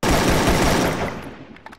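Rapid automatic gunfire in the Free Fire video game, a dense burst of shots that fades over about a second and a half, close and loud with no talking.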